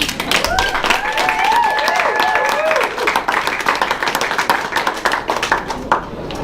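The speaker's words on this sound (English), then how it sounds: "Let's give her applause." Guests at a wedding reception break into lively clapping and applause that continues for several seconds, with cheers and a few whistles rising over the crowd noise near the start.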